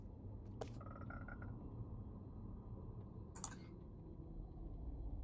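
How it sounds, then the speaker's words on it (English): Temperate frogs in the Minecraft video game, a few short croaks and clicks over a low ambient game hum, fairly quiet and without any talking. "I've been spawning temperate frogs,"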